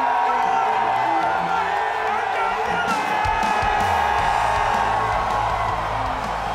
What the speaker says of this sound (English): Crowd going nuts for tri-state angler Mike Iaconelli.